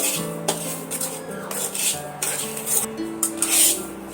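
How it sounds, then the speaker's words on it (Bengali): Semolina is dry-roasted in a wok for halwa, the spatula scraping and rubbing against the metal in irregular strokes, close and moderately loud, with a faint sizzle beneath and no talk. "সুজিগুলো দিয়ে আমি সুন্দর করে লাল লাল করে ভাজা করে নেব"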